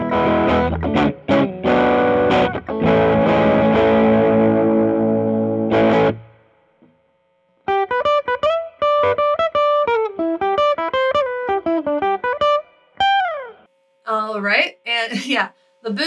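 Ernie Ball Music Man Cutlass HT electric guitar with heat-treated pickups, middle and bridge pickups selected and boost engaged, played loud and distorted: thick strummed chords, a pause, then a choppy single-note riff and a few final stabs.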